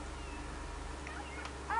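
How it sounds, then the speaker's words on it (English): In The Sims 3 video game, a cat meows faintly, a short call rising above a steady low game background hum near the end. "the cat is meowing at cake, in fact"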